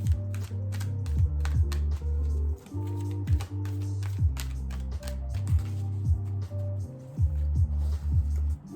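Repeated riffling and tapping clicks of cards being shuffled under a steady low musical drone, irregular bursts over several seconds.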